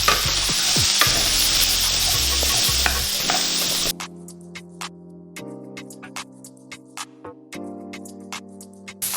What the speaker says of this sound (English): now that we have our vegetables lightly caramelized